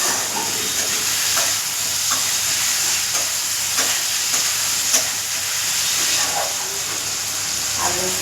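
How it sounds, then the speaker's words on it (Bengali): Potatoes and onions frying in hot oil give a steady, close sizzle and hiss the whole way through, with now and then a scrape or stir of a spatula in the pan. "আলু পেঁয়াজ সবটাই দিয়ে দিয়েছি তেলে"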